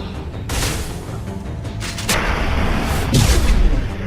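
Shotgun blasts in Mass Effect 2 combat, several loud booming shots spaced irregularly, with the heaviest blast near the end and rumbling echoes between them.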